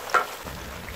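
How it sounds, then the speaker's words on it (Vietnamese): Mackerel scad frying in hot oil in a pan gives a brief spatter, then a soft, low sizzle that continues for a moment. "Rồi tiếp tục để lửa lớn chiên thêm một lát nữa để cho mặt còn lại chuyển sang vàng luôn là mình sẽ lấy ra."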